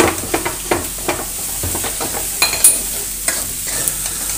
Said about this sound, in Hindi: ये डाल देंगे टमाटर, 2 टमाटर काट के रखे हैं, टमाटर गल जाए इसके लिए डालेंगे नमक स्वाद अनुसार अपने।